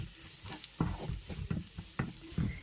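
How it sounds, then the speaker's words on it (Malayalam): Masala being stirred in a pan for a squid masala, with soft scraping and faint sizzling in uneven bursts about every half second, close and fairly quiet with no talking. "ഇനി മസാല ഇളക്കി കൊടുക്കാം."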